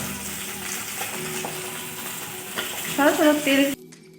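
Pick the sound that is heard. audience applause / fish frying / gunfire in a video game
fish frying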